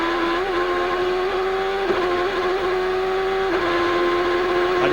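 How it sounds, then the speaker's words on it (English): A Ford Cosworth race car engine at the 2006 Champ Car race in Houston, a loud sustained high-revving whine held at full throttle with a few brief dips during gear shifts. "Let's listen to this Ford Cosworth motor sing here in Houston."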